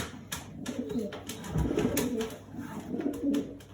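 Pigeons coo softly in a breeding loft, several birds overlapping in low, rolling calls with occasional sharp clicks and wing or perch noises close by.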